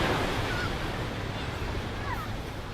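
Ocean waves surging onto a beach, a steady broadband wash of surf with wind buffeting the microphone, continuous and fairly loud throughout, with no distinct voices.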